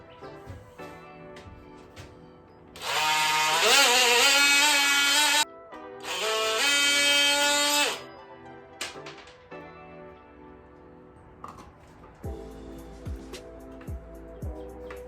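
A power multi-tool cutting the tip off a caulk tube gives two loud, steady buzzing bursts of a few seconds each, followed by quieter handling clicks and knocks.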